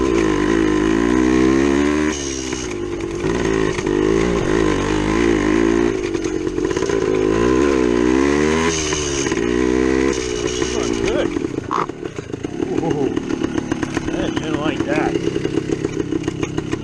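A 1972 Yamaha DT2 two-stroke motorcycle rides on road and trail, its buzzy engine revving up and down loud and close, with wind rush and a voice talking over it.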